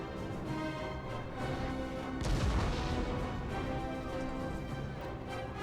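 Cannon artillery fire on a battlefield in the video game Napoleon: Total War, a distant booming impact swelling out of a steady low rumble of battle noise.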